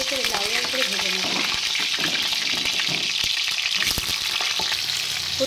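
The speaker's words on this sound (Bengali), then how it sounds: "এবার আমি তুলে নেব পটলগুলো, পটলগুলো একটু মেঝে করে লাল লাল করে ভেজে নেব।" Pieces of pointed gourd (potol), lightly salted, fry in hot oil with a loud, constant crackling sizzle up close, broken by scraping from a turning spatula; a faint voice sits underneath.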